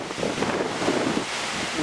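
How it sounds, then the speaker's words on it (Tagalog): Strong wind buffets the microphone behind a house in Estevan, Canada, in a continuous rough roar with low rumbling gusts. "malakas ang hangin"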